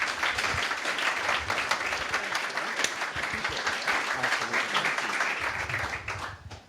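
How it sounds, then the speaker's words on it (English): An audience at Bitcoin Park applauding to welcome Evan Mawarire to the stage, a loud, dense burst of many hands clapping that holds steady, then tapers off at the very end. "give a huge round of applause to Evan"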